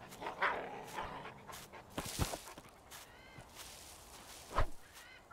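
A dog in the video game Survival: Fountain of Youth gives a few scattered barks and panting sounds at moderate distance, with quiet outdoor ambience between them.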